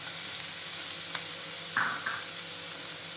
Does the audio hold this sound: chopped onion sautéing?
yes